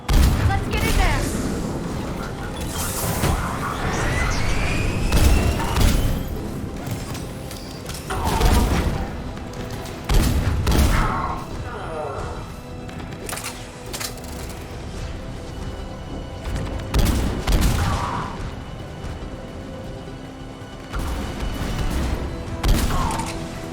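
Mass Effect combat at a Cerberus checkpoint brings scattered gunshots and heavy booms through an ongoing mix of game sound, with voices talking throughout.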